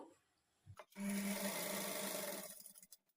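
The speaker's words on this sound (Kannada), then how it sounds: "ಈ ಥರ ಇಡ್ಕೊಂಡು ಸ್ಟಿಚ್ ಮಾಡ್ಕೊಳ್ತಾ ಬರಬೇಕು" A sewing machine stitches a fall onto a saree, a steady close-up whirring run of about a second and a half that starts and stops abruptly, with no talking.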